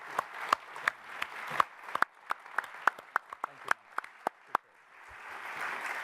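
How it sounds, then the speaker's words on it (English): Applause after a panel discussion comes as sparse, distinct claps, about fifteen sharp hits at an uneven pace, fairly close, then fading into a soft room hum. "let's give it a round of applause"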